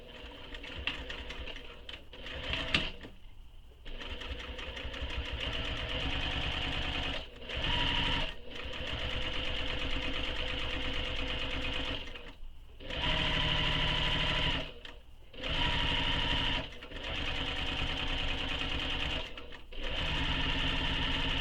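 A sewing machine stitches along the folded edge of a handbag at the pattern's seam allowance, whirring in long continuous runs broken by brief stops, close up and with no voice over it.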